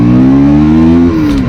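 A 2025 KTM Duke 160 motorcycle accelerating in first gear: a loud, close engine note with a steadily rising pitch that drops off briefly near the end as the throttle eases.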